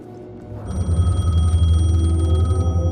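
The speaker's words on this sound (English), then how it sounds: "The payphone was ringing." A payphone in Alan Wake 2 rings with a loud, sustained electric bell that starts abruptly and continues steadily over low ambient rumble.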